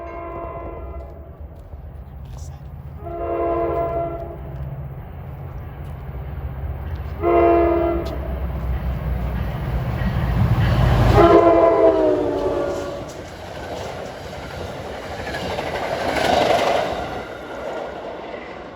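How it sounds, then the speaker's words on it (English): NJ Transit train 57, a Hoboken to Port Jervis express, passes close on the near track with several loud horn blasts over a steady rumble of engine and wheels, swelling and fading as it goes by. "57 for Port Jervis will probably be running on the near track."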